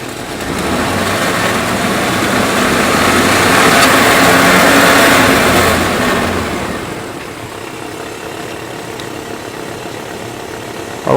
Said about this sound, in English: have the camera person go inside and rev it up for this test for 5 seconds